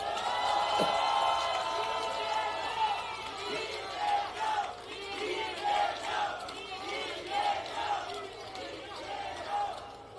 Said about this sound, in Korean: 여러분 힘찬 박수 함성을 부탁드립니다